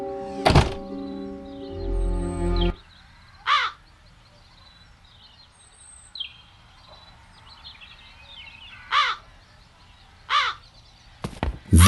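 Crows caw several times at spaced intervals in a scene from The Dark Eye: Chains of Satinav, after a heavy thunk and a held tone, with sharp knocks near the end and no talk.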